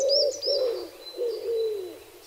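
A dove or pigeon coos outdoors in a short run of soft, rounded repeated calls, close and clear, with faint higher chirps behind.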